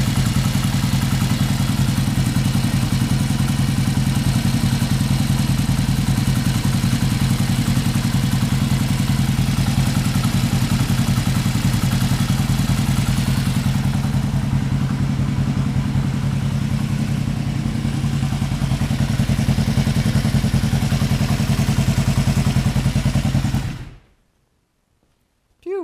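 A Yamaha XS500 motorcycle engine idles loudly and steadily up close, a constant throbbing rumble with mechanical clatter, holding even for over twenty seconds before cutting off abruptly into silence.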